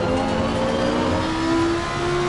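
A Lamborghini Huracan GT3 race car in Assetto Corsa Competizione holds a loud, steady engine note that climbs slowly in pitch as it revs. No voices.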